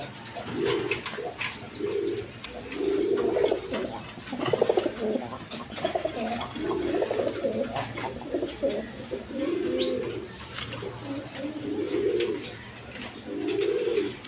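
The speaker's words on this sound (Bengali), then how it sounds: "একদম বিগ সাইজের চুরি মোজাওয়ালা গড়রা কবুতর" Big-bodied feather-footed pigeons coo in a loft, deep rounded hooting calls repeating every second or two in a regular rhythm over faint background rustle, close by and moderately loud, with no talking.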